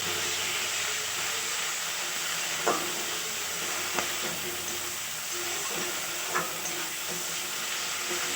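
Fish head curry cooking down in a pan with ginger, cumin and green chilli pastes gives off a steady hiss and sizzle, interrupted by a few soft clicks of a spoon stirring.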